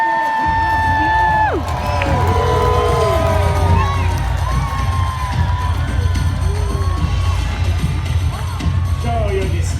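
A large outdoor crowd at a Warwick Castle War of the Roses show cheers and whoops for a house, loud and sustained, with shouting voices and excited children throughout.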